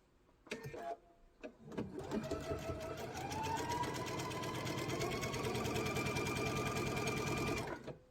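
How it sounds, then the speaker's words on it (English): A sewing machine stitches a diagonal line across a lavender table runner: a few short starts, then a steady, close, rapid mechanical hum that runs for several seconds before stopping. "I'm going to sew across that diagonal line this way from the center down to"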